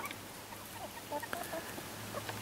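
Chickens in an outdoor coop cluck softly in scattered short calls, not very close, over steady hiss and a low continuous hum.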